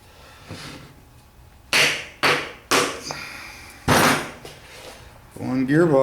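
Several sharp, loud knocks, about five spaced hits, drive a flange seal into a differential during installation, followed by a brief voice at the end.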